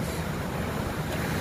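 Large ocean waves at Pebble Beach, California, a dense continuous roar of surf and wind, loud and close, with no voices.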